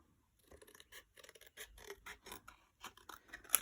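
Scissors cut out paper for mixed media work with a quiet, close series of irregular snips and rustles in an otherwise still room.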